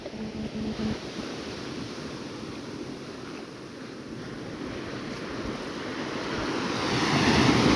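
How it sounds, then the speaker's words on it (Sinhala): Ocean waves wash steadily onto a beach at Arisimale in Sri Lanka, a continuous surf roar with wind buffeting the microphone, swelling louder toward the end. "මෙන්න මේ මුහුද දිහා බලාගෙන මුහුදු රළ දිහා බලාගෙන"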